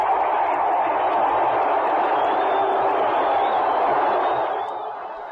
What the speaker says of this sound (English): The crowd, it roars.